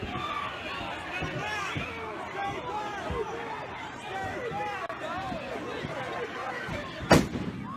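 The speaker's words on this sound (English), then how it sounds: "somebody shot a firework at a gas pump, where both protesters and police were standing" A firework fired at a gas pump during a street riot with protesters and police present cracks once, sharp and loud, near the end, above a dense babble of shouting crowd voices.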